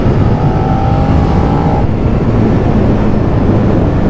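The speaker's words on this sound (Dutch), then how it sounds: "We zitten op de Suzuki SV650." Engine of a Suzuki SV650, a 650cc motorcycle, roars loud and close while riding, a steady droning rumble with a brief rising rev near the start.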